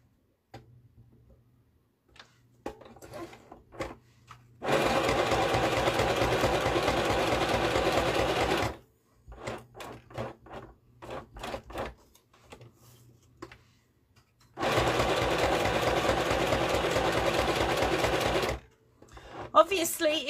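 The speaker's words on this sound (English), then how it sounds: "I've got my pocket, which I've just folded like that, and I'm just going to sew it all in one unit." A domestic sewing machine stitches a folded fabric pocket in two sustained bursts of rapid, even ticking, close and fairly loud, with quiet clicks and handling sounds between the runs.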